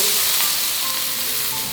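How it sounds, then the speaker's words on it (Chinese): Aromatics dropped into hot oil while braising fish, giving a loud, dense, close sizzle that fades slightly over the short span, with no voices. "再来点油，这个香也给它放下去爆一下"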